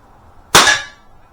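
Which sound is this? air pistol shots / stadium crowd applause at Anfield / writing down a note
air pistol shots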